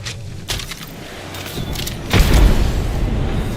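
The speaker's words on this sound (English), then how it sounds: "Throwing frag." A frag grenade explodes in a video game, a single loud, deep boom about two seconds in that rumbles on over the steady background game sound.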